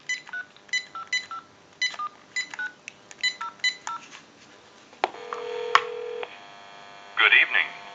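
A GE 27909 two-handset cordless telephone under repair dials a number with a quick series of clear DTMF beeps, each tone short and evenly spaced, followed by a steady tone and a burst of ringing or line noise, with no voice.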